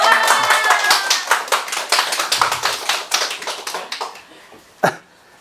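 Audience applause at a Buddhist lecture on the Thousand Hands Sutra: dense, steady clapping from many hands fills the room, thinning toward the end before a single louder sharp tap.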